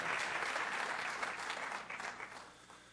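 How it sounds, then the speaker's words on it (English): Conference audience applauding as a speaker comes up, a steady wash of clapping that holds strong and then tapers off near the end. "And give him an applause while he's coming up."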